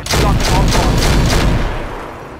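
Weapons firing in RogueTech, a mech battle game, as a loud rapid volley of about five overlapping booming shots over roughly a second and a half, then a decaying rumble.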